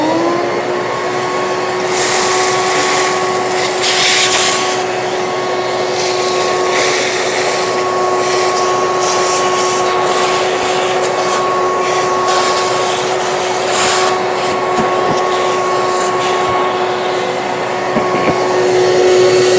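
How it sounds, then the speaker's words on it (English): A vacuum cleaner runs steadily for about twenty seconds, sucking debris out of a machined slot in a workpiece with a loud, close, continuous whine and occasional rattling as the nozzle moves. "All right, I'm going to take some time vacuuming that out."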